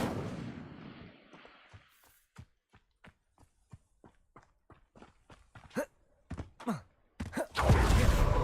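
Incendio fire spell cast in Hogwarts Legacy, opening with a broad flaring whoosh that fades over about two seconds, followed by quiet footsteps and soft knocks, then a loud burst of noise at the end.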